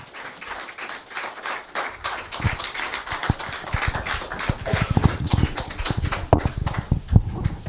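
An audience claps to welcome the MSME director to the stage, a loud burst of scattered, uneven hand claps that thickens and grows sharper over several seconds.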